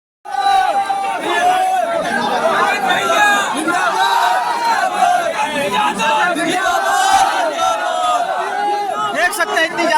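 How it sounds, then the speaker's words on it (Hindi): Large crowd at a rally in Pratapgarh, a loud, dense roar of many voices shouting and chattering at once, steady and close for the whole stretch, with individual shouts rising out of the mass. "देख सकते हैं इतनी ज्यादा भीड़ है।"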